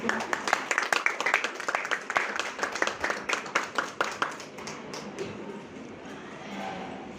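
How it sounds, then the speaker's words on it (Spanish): An audience at an education congress applauds to welcome a speaker, starting with distinct claps that thin out and fade to quiet room tone after about five seconds. "Le damos la bienvenida con un fuerte aplauso."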